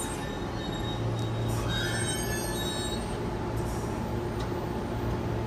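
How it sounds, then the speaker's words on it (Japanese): A limited express Azusa train rolls into Kofu Station with a steady heavy rumble and high metallic wheel squeals, loud and constant throughout. "特急あずさ50号千葉駅到着です"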